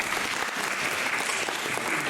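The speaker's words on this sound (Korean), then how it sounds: "박수로 인사하겠습니다" A congregation claps steadily at a Christmas church service, a dense even wash of applause from many hands, close and continuous with faint murmuring behind.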